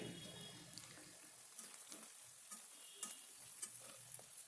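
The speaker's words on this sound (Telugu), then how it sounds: "ఇప్పుడు నూనెలో ముక్కలు మంచిగా గోలుతాయండి అంటే వేగుతాయి" Chicken pieces for chicken pickle frying in hot oil over a high flame, a faint steady sizzle with soft stirring scrapes and occasional clinks, close by and without talk.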